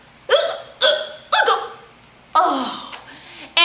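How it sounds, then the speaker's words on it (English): A cartoon penguin hiccups after eating chili, five loud, abrupt squeaky hics at uneven intervals with quiet breathy pauses between them. "hiccups."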